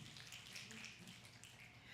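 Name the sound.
audience snapping fingers in appreciation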